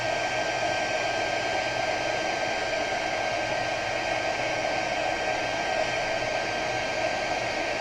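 A heat gun blows steadily for heat embossing, giving a constant hiss of airflow with a motor hum underneath. It runs for several seconds at moderate level, with no talk.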